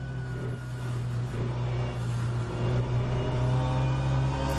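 A racing car engine sounds in onboard audio from the Le Mans Virtual sim racing game, a steady droning hum with slight rising revs, moderately loud and without talk.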